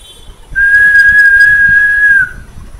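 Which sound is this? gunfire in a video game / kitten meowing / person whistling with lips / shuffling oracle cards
person whistling with lips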